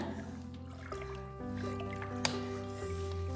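Water from a tank at a hill fort trickles and drips into a bottle being filled, a close, soft gurgling stream with a few sharper drops.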